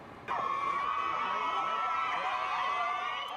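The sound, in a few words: crowds cheering for Harry and Meghan in Cape Town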